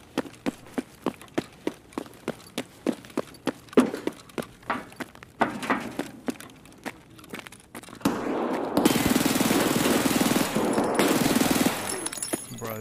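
Rapid full-auto Glock pistol fire in Escape From Tarkov, starting as a rhythmic string of sharp close shots, then merging into a dense, continuous roar of sustained gunfire.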